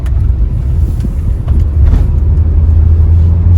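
A Honda Stepwagon with a worn-out muffler drives along, heard from inside as a loud, steady low engine and road rumble that holds without break.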